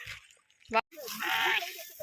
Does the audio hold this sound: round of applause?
no